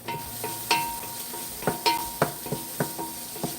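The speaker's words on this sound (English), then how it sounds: "I'm just browning my onions." Chopped onions browning in a tablespoon of olive oil in a pot, a soft steady sizzle broken by about ten sharp stirring scrapes and clinks of a utensil against the pot, close and fairly quiet, with no talking.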